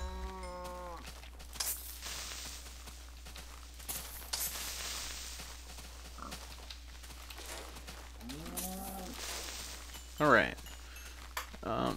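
Cows moo in the Minecraft video game, several separate moos spread across the stretch at moderate distance, with a sharper squeal near the end and faint footstep-like rustling between them.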